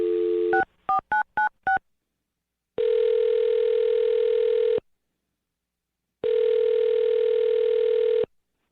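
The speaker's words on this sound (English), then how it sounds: "I'm going to dial her phone number right now" A quick series of touch-tone dialing beeps followed by two long ringback tones with a pause between them, clear and close.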